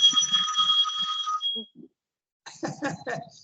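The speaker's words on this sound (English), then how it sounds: "The phone is ringing." A telephone rings with a bright electronic trill that repeats for about a second and a half, then stops, and a person starts talking soon after in a quiet indoor room.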